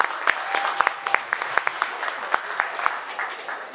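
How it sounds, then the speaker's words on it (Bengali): Audience applause at a Pohela Baishakh 1422 celebration in New York: a steady patter of many hands clapping at moderate distance, with a few distinct sharp claps standing out. "ওনাকে আরেকটি হাততালি দেবেন"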